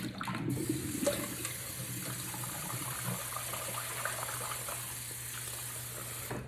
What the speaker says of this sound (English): let's give this one more rinse.